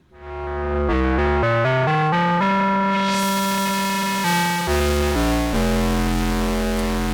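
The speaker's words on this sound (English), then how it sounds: "Something we have not talked about yet is the ring modulator. Yeah, there's also a ring modulator in here." A Korg ARP Odyssey synthesizer's ring modulator sounds alone: a sustained, buzzy metallic tone with clangorous inharmonic overtones that steps through several pitches, loud and close, with a bright sweep swelling in the middle.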